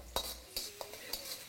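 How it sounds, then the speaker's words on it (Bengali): Ginger, garlic, dried chilli and star anise are stirred in a pan of oil, giving four soft spaced scrapes and clinks of a utensil against the pan with quiet sizzle between them. "তারপর এটাকে ভালো করে একবার মিশিয়ে নিন।"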